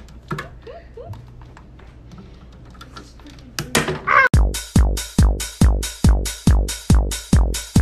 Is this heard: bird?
yes